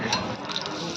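A veg roll frying in oil on a pan, a loud close sizzle with crackling spatter and faint clinks of a utensil against the pan, a voice faintly present.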